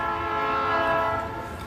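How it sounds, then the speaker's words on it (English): A train passes through Bellingham, its horn blaring in a loud, sustained, harmonic tone that holds steady for the whole stretch over a low rumble of the moving cars. "as the train goes through"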